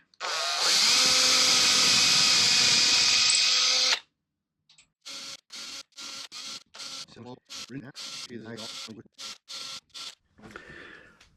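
A power drill drills holes into a wooden screw shelf. One long continuous whine runs for about four seconds, then comes a quick series of short bursts. It is loud and close, with no talk.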